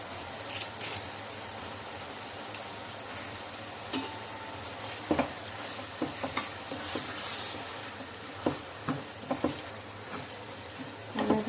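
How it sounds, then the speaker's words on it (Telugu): Onions and curry leaves fry in oil in a covered pan for a drumstick milk curry, giving a steady close sizzle broken by scattered clinks and scrapes of stirring, with no talk. "నూనెలో మగ్గనియాలి ఉల్లిపాయలు."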